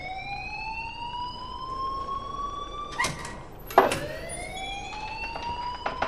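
A shrill electronic alarm rings continuously in Life Is Strange, a steady high-pitched siren-like tone with two short clattering bumps partway through.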